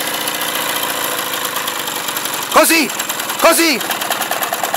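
Vintage Motom Daina moped engine idling at a very high, fast idle, a steady near rumble throughout, with a couple of brief voices speaking over it.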